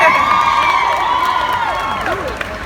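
A crowd at the Beautycon LA 2019 beauty convention cheers and whoops loudly and continuously, with shrill voices rising and falling in a dense, close wash that holds for the whole stretch.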